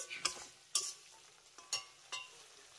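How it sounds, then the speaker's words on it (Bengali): Spice masala for a soybean and potato curry fries on a low flame while a spatula scrapes the pan in a few distinct strokes over a faint, steady sizzle, with no speech. "এবার এই মশলাগুলোকে লো ফ্লেমে আমি 2 থেকে 3 মিনিটের মতো কষিয়ে নেব।"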